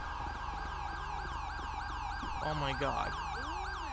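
Wailing ambulance siren in GTA 5 at a car-explosion scene in Little Sandy, sweeping up and down steadily and close, with a short exclaiming voice partway through.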